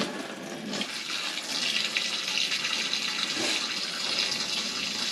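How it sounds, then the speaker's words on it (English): Heating water rushes out of an uncapped shower valve pipe during a bathroom renovation, a steady, close hiss and splash that holds for several seconds with no talking. "popping the cap off this one. Heating water will just come out"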